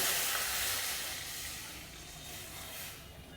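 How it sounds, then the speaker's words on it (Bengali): Water poured into hot melted ghee in a wok sets off a soft, hissing sizzle that is strongest at first and gradually fades while it keeps steaming quietly. "এবারে গাওয়া ঘিটা গলে যাওয়ার পরে আমি কড়াইয়ের মধ্যে পরিমাণ মতন জল দিয়ে দেব।"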